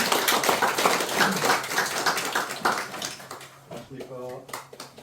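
Guests at a children's literature award ceremony in a seminar room applaud a speaker's arrival, steady close clapping that fades in the last second as a hum and a few voices remain.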